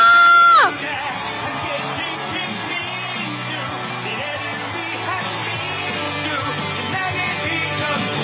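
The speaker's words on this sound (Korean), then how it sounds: "함성!" A political campaign rally crowd in Wonju, Gangwon, roars with sustained cheering and shouting after a brief loud opening burst, a dense, steady wall of voices filling the whole stretch.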